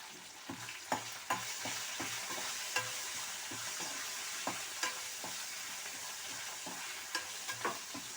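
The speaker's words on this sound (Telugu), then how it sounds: "తాలింపు వేగిపోయింది" Asafoetida tempering sizzles in a pan, steady frying hiss with a spoon scraping and stirring at irregular intervals, close and fairly quiet, no talk.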